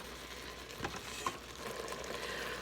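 A paddle stirs onion and beef in an Instant Pot, giving a steady low sizzle with a couple of soft scraping strokes across a short stretch.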